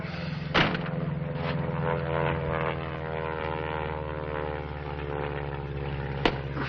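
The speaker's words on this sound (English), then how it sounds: "Wesley Airport." A propeller aircraft engine drones steadily at an airport, loud and continuous, with a couple of sharp knocks breaking through.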